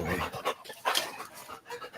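A big, overgrown dog pants close by in quick, rhythmic bursts of breathy huffing, loud and clear with no one talking over it.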